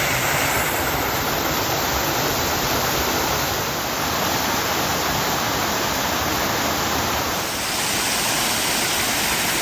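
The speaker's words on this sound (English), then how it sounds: "There's the second waterfall" Steady, loud broadband rush of a waterfall in a pretty wooded glen, continuous and close with no gaps or voices.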